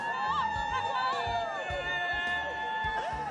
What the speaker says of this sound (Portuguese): A empolgação da torcida do Equador